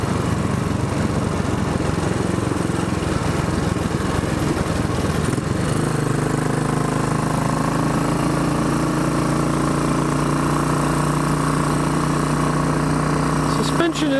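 A Royal Enfield Bullet 500 Iron Barrel motorcycle runs while being ridden, its single-cylinder engine droning steadily and loudly throughout, with the pitch shifting as it eases off partway through.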